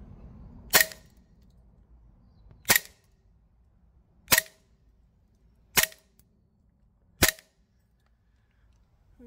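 A GHK Glock 34 gas blowback airsoft pistol on green gas fires 0.25 g BBs: five sharp, loud single shots spaced about two seconds apart, with quiet between each.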